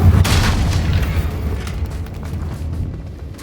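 A Confringo fire spell explosion from the video game Hogwarts Legacy: a loud booming blast at the start that rumbles and fades over a few seconds, with no talking.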